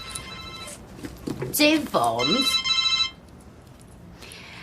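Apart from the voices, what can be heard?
mobile work phone ringing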